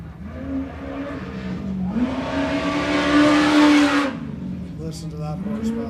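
Race vehicle engine revving hard at desert race qualifying in Powell, Wyoming, pitch climbing to a loud sustained peak then easing off, with a commentator talking over it.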